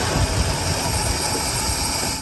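A 1961 DeSoto V8, revived after sitting for decades, revs hard close by, a loud, rough, continuous roar with a slightly uneven pulse throughout.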